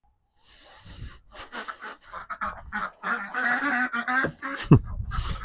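Several ducks honk and quack in close, irregular bursts, with a brief breathy sound near the end.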